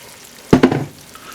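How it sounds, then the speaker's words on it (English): Guajillo chili sauce hits a hot pan with a sudden sharp sizzle and a second quick burst, then settles into a softer, fading bubbling hiss. "put our sauce in here and cook it just for a minute or so"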